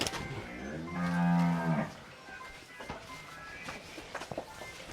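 A Sahiwal-cross cow lets out one long, deep moo, followed by quieter shuffling and a few soft knocks nearby.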